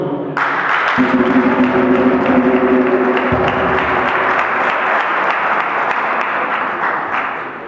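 Sustained applause and clapping from a crowd at a UDPS youth league political rally in South Africa. It fills the whole stretch at a steady, dense level with a brief murmur of voices underneath.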